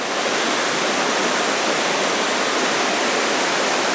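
Rapids on the Westfield River near the Mittineague Dam rush steadily, a dense, even roar of churning water heard close and alone.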